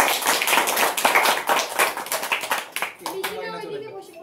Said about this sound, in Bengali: এক সেকেন্ড হাততালি সবাই